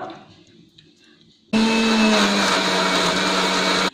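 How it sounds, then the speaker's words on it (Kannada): Mixer grinder running loud and steady as it grinds turmeric, onion, ginger-garlic paste, cinnamon and clove, starting abruptly after a quiet moment with a constant high-pitched whirring motor and rattling. "ಮತ್ತು ಶುಂಠಿ ಬೆಳ್ಳುಳ್ಳಿ ಪೇಸ್ಟು, ಇದನ್ನು ಇದಕ್ಕೆ ರುಬ್ಬಕ್ಕೆ ಹಾಕೋತಾ ಇದ್ದೀನಿ. ಇದಿಷ್ಟನ್ನೇ ರುಬ್ಕೊಂಡ್ಬಿಡ್ಬೇಕು ಫಸ್ಟು."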